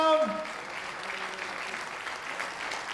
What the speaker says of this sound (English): Applause all round, and there it is.